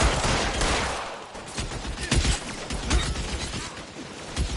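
Heavy gunfire in the video game L.A. Noire, a loud fusillade of overlapping shots and bursts that runs throughout without a break.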